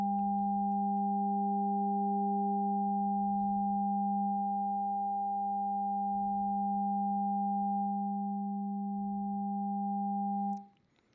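Steady electronic tones from Operator oscillators at audio rate in FM synthesis, several pure pitches layered and sustained at an even level, one shifting slightly, before cutting off abruptly near the end, with no voices.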